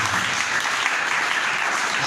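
A church congregation applauding during a French-language sermon, a steady, even wash of many hands clapping at moderate loudness with no pauses.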